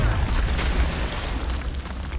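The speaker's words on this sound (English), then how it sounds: "Oh, forgot about grenades!" Grenade detonating in the video game XCOM, a dense, loud boom with a sustained rumbling low-end roar filling the whole moment, no voices over it.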